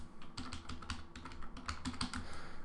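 Quiet, close keystrokes on a computer keyboard, a steady irregular run of clicks with slight pauses between short bursts.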